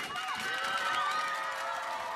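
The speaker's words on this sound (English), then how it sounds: "Listen to the cheer." A local roadside crowd cheers steadily as the final rider rolls off in a Tour of Denmark stage 5 time trial, a continuous, moderately distant wash of voices and whistles.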